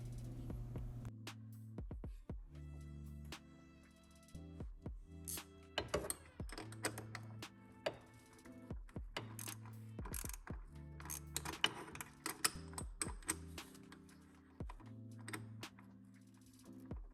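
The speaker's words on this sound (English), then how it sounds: "I'm using a 10mm socket to tighten down the bracket." A ratchet with a 10mm socket tightens down a bracket during an oil catch can install on a Ford Explorer ST, giving quick runs of close, crisp clicks in irregular bursts over a steady low tonal background.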